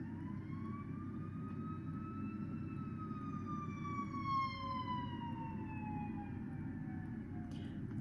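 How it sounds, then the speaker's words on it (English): An emergency vehicle siren wails outdoors, rising and falling in long sweeping tones over steady low traffic rumble, moderately distant and continuous throughout. "there go another siren."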